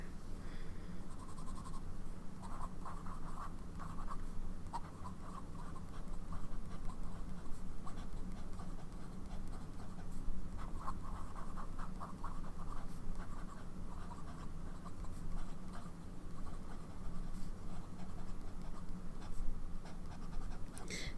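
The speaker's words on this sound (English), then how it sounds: "writes pretty nicely on the paper, but I can hear the feedback" A fountain pen filled with Sailor ink writes across paper, giving a steady, faint scratchy nib sound in bursts of strokes over a quiet room hum, with no talking.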